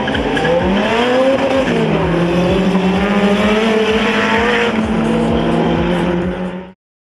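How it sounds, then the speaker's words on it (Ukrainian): Drag racing cars tear down an airport runway at Poltava, an engine screaming loud and close through rapid gear shifts with a tire squeal, the roar holding for several seconds before cutting off abruptly. "Мова не про літаки, а про автомобілі, які майже відривалися від злітної смуги."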